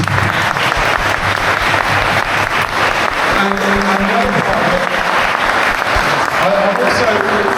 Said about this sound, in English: a round of applause for these.